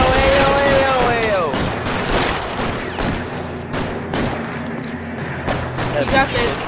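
Rapid gunfire in the L.A. Noire video game, a loud fusillade of overlapping shots and booms that continues through the scene while a person talks over it.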